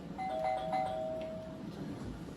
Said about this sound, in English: A minute later, though, the doorbell rang again.